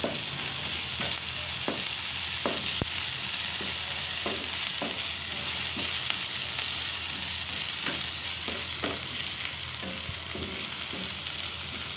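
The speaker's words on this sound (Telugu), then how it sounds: "కొంచెం అల్లం వెల్లుల్లి పేస్ట్ వేసుకోవాలి. అది కూడా కొంచెం వేగనివ్వాలి." Ginger garlic paste with turmeric fries in oil in a pan, giving a continuous loud sizzling hiss with regular soft knocks and scrapes of a spoon stirring.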